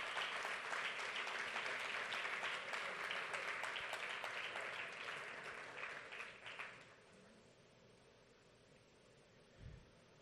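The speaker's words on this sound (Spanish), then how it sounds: "Dale un aplauso a Dios por eso." Audience at a political talk applauding, a dense wash of clapping that holds for about six seconds, then fades out, leaving a quiet room with a brief low thump near the end.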